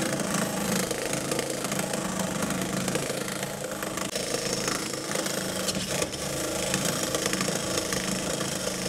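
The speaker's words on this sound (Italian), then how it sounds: "Adesso con Trapano e inserto andrò a rovinare apposta l'impronta della vite" A power drill with a bit runs loud and steady for the whole stretch, deliberately stripping a screw head, a continuous whirring grind with slight wavering and no voices.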